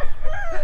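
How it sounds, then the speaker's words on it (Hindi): A rooster crows, a short, loud, close cry lasting under a second with a strained, wavering tone, heard on a trip to Ooty. "मुर्गी भी चिल्ला रहे थे। मुर्गी नहीं, मुर्गा है।"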